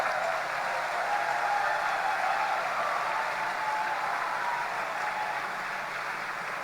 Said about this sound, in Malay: Tepukan untuk beliau.